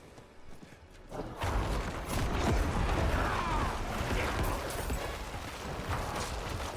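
A horse gallops in the video game Diablo 4 with a fast, steady clip-clop of hooves mixed with clanking gear noise, loud and continuous after a quiet start.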